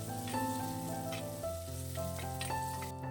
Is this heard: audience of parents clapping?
no